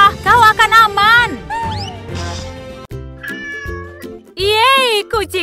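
A cartoon cat meows loudly and repeatedly during a rescue scene, with high, bending cries and drawn-out caterwauls mixed among voices talking over it.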